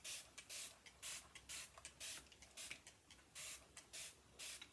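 Repeated bursts from a spray bottle misting water onto a synthetic fiber wig, about a dozen quick hissing sprays in an uneven rhythm, close and clear with no talking.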